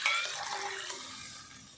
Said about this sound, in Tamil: இப்போ இதில் மட்டன் வேகிறதுக்கு தேவையான அளவுக்கு தண்ணி சேர்த்துக்கலாம்.